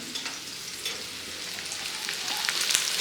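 Shrimp chops fry in a pan, giving a soft, continuous crackling sizzle that grows slightly louder toward the end, heard close up with no voices.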